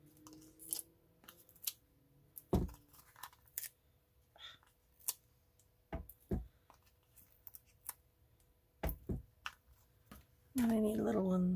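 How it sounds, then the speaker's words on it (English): Sharp scissor snips cutting a thin strip of paper from a card edge during paper-craft stamping, scattered clicks and short cuts close by, with a brief louder rustle at the end and someone talking quietly between them. "I'm going to cut a really thin strip right here off of the edge"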